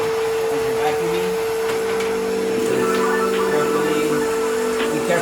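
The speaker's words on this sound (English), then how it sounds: "Go to the wall and try to pull things out as you're vacuuming." A vacuum cleaner running along a floor next to a wall drones loudly and steadily, with a constant whine over a rough rushing roar that never lets up.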